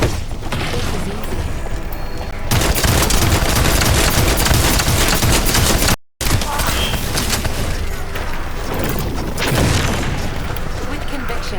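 Sustained automatic gunfire and booming weapon blasts from the looter-shooter game The First Descendant, dense and loud nearly throughout, with a brief cut to silence midway and speech mixed under the shooting.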